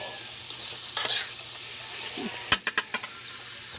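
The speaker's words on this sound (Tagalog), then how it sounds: "gisa lang po mabuti" Beef skin and meat sautéed in a pan, a steady sizzle under stirring, then a quick run of four or five sharp scrapes and clinks of a utensil against the pan.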